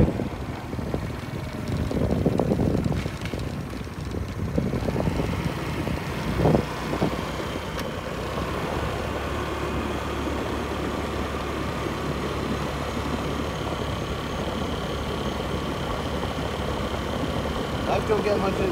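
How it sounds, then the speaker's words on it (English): Steady engine rumble of passing road traffic close by on a Florida morning, heard from a riding scooter, with wind buffeting the microphone throughout and a few louder surges early on. "Traffic."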